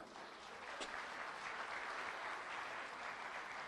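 An audience at an Indonesian motivational talk claps together, a dense, steady wash of applause heard from a distance and fairly faint, lasting throughout without a break.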